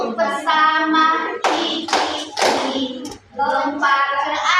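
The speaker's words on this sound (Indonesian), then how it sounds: "tepuk bersama," Children clapping their hands together in a classroom while singing along, a few sharp claps set between sung phrases, close and fairly loud.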